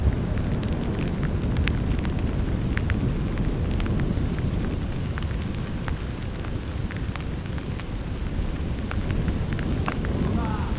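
Heavy rain pours steadily and close during a cycling trip near Mugikusa Pass, a dense continuous wash with scattered drop impacts and a low rumbling undertone, and no clear talking.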